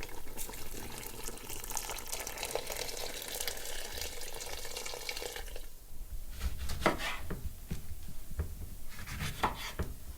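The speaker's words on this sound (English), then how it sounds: "so I'm going to add some more water" Water pours into a pot of thick Persian noodle soup (ash reshteh) with beans, a steady close splashing that breaks off partway, followed by a few clinks and stirs.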